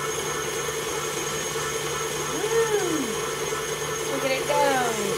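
An electric kitchen mixer whirs steadily while mixing chocolate chip cookie dough studded with M&Ms, a continuous loud motor drone with voices talking over it.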